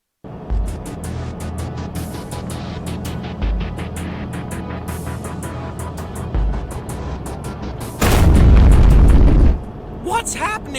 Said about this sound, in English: The explosion disables the force field generator.